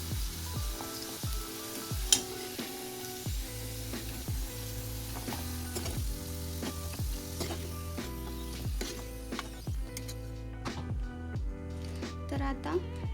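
Ground green peas sizzling and frying in leftover oil in a pan, a steady close crackle with occasional clinks of a stirring utensil.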